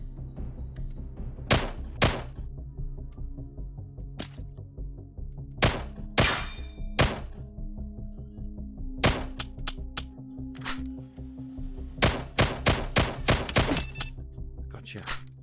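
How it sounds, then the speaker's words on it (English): Gunshots ring out in the Outlier PCVR game, several sharp cracks, some single and some in quick clusters, spaced across the stretch over a low steady hum, with no voice. "Let's see if I can shoot him from here."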